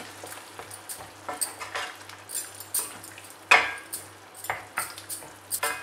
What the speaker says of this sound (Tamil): இது எல்லாத்தையும் நல்லா மிக்ஸ் பண்ணிக்கிறேன்.